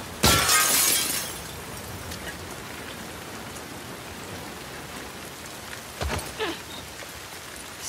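Glass bottle shattering in The Last of Us Part II, a loud close crash of breaking glass with a scattering tinkle of shards, then quiet ambience and a few smaller clinks.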